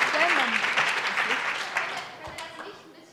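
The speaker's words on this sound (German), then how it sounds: "Einen ganz herzlichen Applaus." An audience at a youth hackathon event in Berlin claps and applauds, a moderate burst of clapping that gradually fades over a few seconds.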